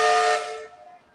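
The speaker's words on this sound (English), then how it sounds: "this is another Road Loco coming, and it's got as you can hear, it's got a really loud whistle" A steam road locomotive lets out a really loud whistle, a single strong shrill blast right at the start that fades away over about a second, with no talking over it.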